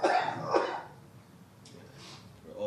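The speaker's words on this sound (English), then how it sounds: "I'm just going to cough" A single close cough, then a second softer one, followed by quiet breathing and faint rustling.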